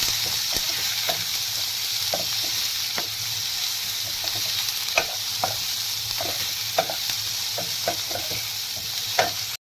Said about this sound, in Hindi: हल्का सा इसमें मैंने प्याज को सौते करना, 2 से 4 मिनट इसको इसमें सौते करेंगे।